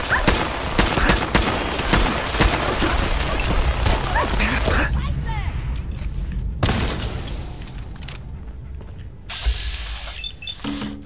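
Shotgun blasts and heavy gunfire in Fallout 4 form a dense, loud barrage of booming shots through the first half, then thin out into scattered thumps under ongoing game noise.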